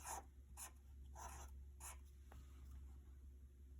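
Marker strokes squeak and scratch across a classroom board in four short bursts over a steady low hum, fairly faint and with no talking.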